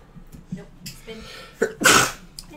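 A single loud sneeze bursts out near the end, preceded by a quick inhale and some faint breathy sounds and background voices during a tabletop game session.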